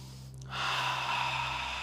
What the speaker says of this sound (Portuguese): Respira bem fundo.